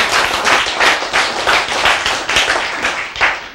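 An audience claps in rhythm during a church sermon, a steady run of loud, close, evenly spaced hand claps lasting a few seconds with no talk over it.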